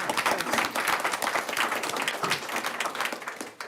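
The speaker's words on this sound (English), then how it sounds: "We'll give you a round of applause." A round of applause at a school board meeting, dense clapping from a small group sustained for a few seconds at moderate level.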